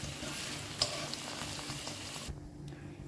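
Chicken pieces fry in a pan with a soft, continuous sizzle and crackle, plus a few faint clinks of stirring, before the sound drops away quieter near the end.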